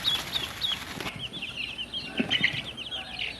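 Week-old baby chicks and ducklings peep in a busy chorus of high, thin chirps that overlap continuously at close range, with soft rustling and shuffling beneath them.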